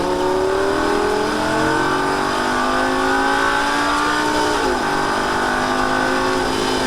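A Lamborghini Gallardo engine roars at full throttle in Las Vegas, its pitch climbing steadily, dipping briefly during a shift, then rising again; loud and continuous.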